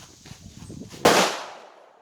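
A single sharp crack from a 1909 Mauser rifle during test firing, loud and close after a few soft handling noises, followed by a decaying echo.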